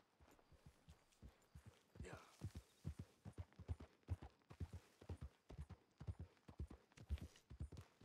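Horse hooves clip-clop in a steady, evenly spaced walking rhythm in the video game Red Dead Redemption II, each step crisp and fairly close, continuing throughout without talk over it.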